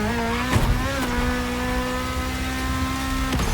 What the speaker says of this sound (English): those straight cut gears, listen to them